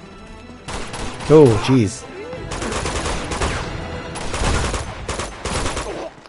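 Automatic gunfire fills the firefights of Uncharted 2: Among Thieves, coming in repeated loud bursts with short gaps between them, while a man reacts briefly in the middle of the shooting.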